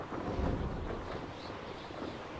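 Steady wind blows through a scene in the video game Hogwarts Legacy, a continuous broad rushing roar with slight swells, fairly loud and unbroken, no speech.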